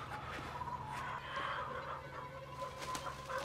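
Chickens cluck softly in a scene from the horror film Midsommar, where a man is devoured by hens, a low, scattered clucking under a steady hum and background noise, with no voices.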